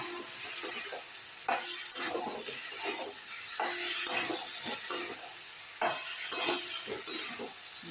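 Vegetables for a vegetarian potato curry, with peas, sizzle and fry in a pan while being stirred, giving a steady close crackle with repeated scraping strokes and no talking.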